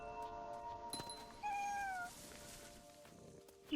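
A cat meows a few times in the video game What Remains of Edith Finch, a short, fairly clear cry rising above a soft ambient game background.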